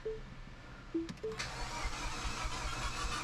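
Small Mini car engine cranking with a few short electronic beeps, then catching and running rough and steady at a moderate distance, fairly quiet overall.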